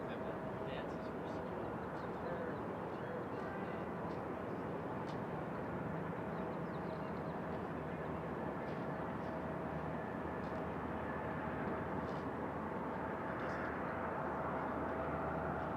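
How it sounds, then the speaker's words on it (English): Delta airliner on arrival at Raleigh-Durham International Airport, inbound from Fort Lauderdale, producing a steady, faint, distant jet roar that holds throughout. "So this one here is Delta 1018 coming in from Fort Lauderdale."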